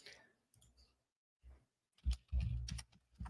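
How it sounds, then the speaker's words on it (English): Keys click on a computer keyboard in short, uneven bursts, quiet at first and then a denser run of close, soft taps near the end. "back to typing this in here"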